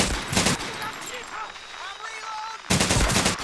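Bursts of automatic machine gun fire in the World War II shooter Medal of Honor: Pacific Assault, a loud rattling burst at the start and another near the end, with calmer battle ambience and whistling between.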